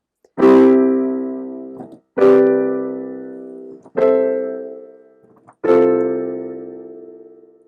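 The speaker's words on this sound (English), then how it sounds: "we're going to stick with C in the left hand." Piano plays four sustained chords, each struck over a held low C octave in the left hand, spaced evenly about every two seconds and left to ring and decay with no talking.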